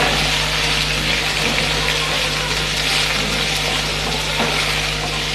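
Onions fry in a pan for masala dosa filling, giving a loud, steady sizzle that holds evenly throughout with a faint background hum.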